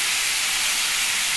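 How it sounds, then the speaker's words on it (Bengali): Chopped vegetables sizzle in a hot pan, giving a loud, steady hiss that fills the moment without pause. "এগুলো সব ভাজা হোক, এগুলো ভাজা হোক ভালো করে।"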